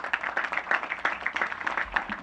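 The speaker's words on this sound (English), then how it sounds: "Give them a big round of applause." A crowd at an outdoor National Night Out community event claps and applauds in a steady, dense burst of many hands, moderately loud and close.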